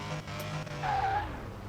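Tires squeal briefly as a car launches off the line at a dragstrip in Car Mechanic 2021, mixed with engine drone and a rising whine from the motor, loud and close.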